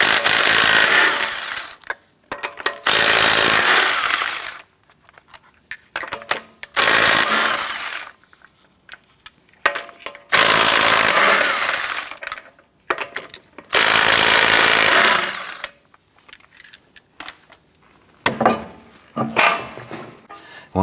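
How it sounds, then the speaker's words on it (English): Power tool spinning a 19mm socket to remove a car's right front wheel: loud, close bursts of rattling impact-gun hammering several seconds long, separated by pauses. "Using a 19mm socket, remove your right front wheel."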